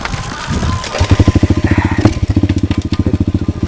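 A pit bike engine idles with a rapid, loud, lumpy putter, each firing pulse distinct and close, after a brief rougher rev at the start, with the steady chugging continuing to the end.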